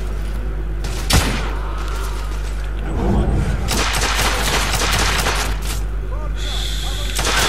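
Gunfire in the video game The Order: 1886 crackles in bursts and single shots in tunnels under a steady hum, with a voice talking over part of it.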